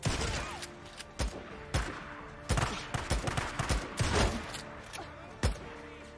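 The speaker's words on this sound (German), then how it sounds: "die Schotte, die knallt schon gut weg" Shotgun blasts in the zombie survival game Days Gone, several loud booming shots at irregular intervals, each with a sharp attack and short decay, over a busy backdrop of game effects.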